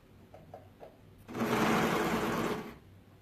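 A sewing machine runs a side seam through front and back garment pieces in one steady burst of about a second and a half, preceded by a few faint clicks.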